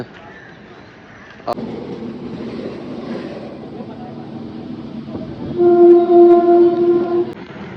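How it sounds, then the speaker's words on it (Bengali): A train rumbles close by, a low steady roar with a sudden thump, then a loud sustained horn blast near the end. "ট্রেন ঠিক আমার পিছনে ওই আসছে"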